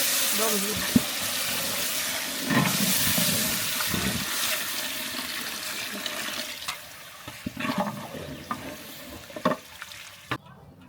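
Broth goes into a pot of beef curry being cooked village-style, a loud gush and splash of liquid that settles into simmering sizzle and scattered clinks of stirring.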